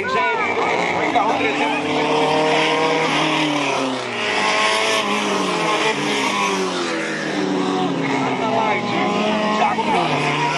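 Race cars in the Categoria Livre heat roar past at high revs, engines rising and falling as they pass one another, loud and continuous under excited commentary.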